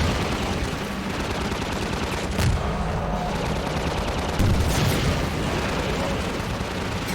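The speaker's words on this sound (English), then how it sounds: "There's an exploding barrel there." Explosive barrel blowing up in Half-Life 2, heard as sharp booming bursts around the 2.5 and 4.5 second marks over a dense, continuous bed of gunfire and game noise.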